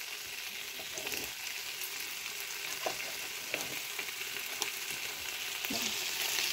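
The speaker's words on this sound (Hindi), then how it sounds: "इसके ऊपर हल्दी और नमक डाल के फ्राई कर दिया जाएगा इसको" Food frying in a pan with turmeric and salt sprinkled over it makes a continuous close sizzle, broken by occasional clicks and scrapes of stirring, with no talking.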